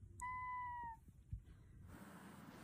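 A single clear meow, drawn out for under a second, followed by quiet rustling and faint background noise.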